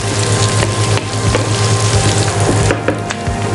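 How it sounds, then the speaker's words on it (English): Onions sautéing in a pan for butter chicken, a loud, dense, continuous sizzle with occasional soft stirring knocks, close and alone with no talk. "Saute it for 1 or 2 minutes until the onions turn translucent."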